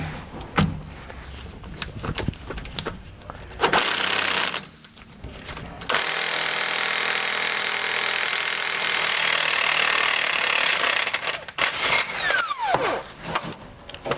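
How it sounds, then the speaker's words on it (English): Two nuts come off the back of a 2019 Newmar Bay motorhome axle with a 1 1/8 inch socket: short rattling bursts, then one long loud steady grinding whir lasting several seconds, ending in scattered clicks and clatter. "We have an 1 1/8" socket, and we'll pull the two nuts off."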